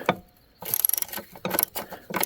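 A wrench works a nut on a Snapper lawnmower axle in a Briggs & Stratton bushing repair, producing close, quick ratcheting clicks in three short bursts separated by brief pauses.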